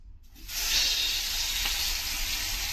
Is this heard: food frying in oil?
yes